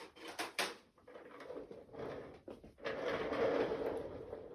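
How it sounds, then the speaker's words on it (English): A rolling desk chair moves around a stamping craft room, its casters rumbling and rattling in uneven bursts across the floor, close by, with sharp clacks early on. "That is my chair that you're hearing because I like to just roll around my stamp room."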